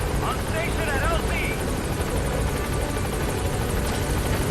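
A video-game helicopter from Metal Gear Solid V roars loud and steady throughout, its rotor wash a constant dense rumble while a voice talks over it.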